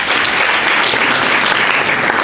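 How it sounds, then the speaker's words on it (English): An audience at a security summit ideathon applauds, a dense, steady wash of clapping that fills the whole stretch without any voices. "Let's give her a round of applause for this."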